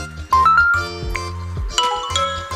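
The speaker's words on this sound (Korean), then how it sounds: "그 알림 소리 있거든요" A phone notification tone from a game-themed sound set plays a short, bright melodic chime of several quick notes, clear and close with nothing else heard.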